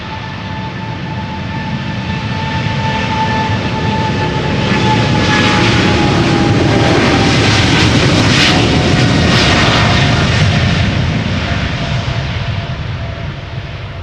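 A KLM Boeing 777-200 jet takes off at Amsterdam Schiphol, its engines roaring loud and close, swelling to a sustained peak with a high whine and then easing slightly as it climbs away.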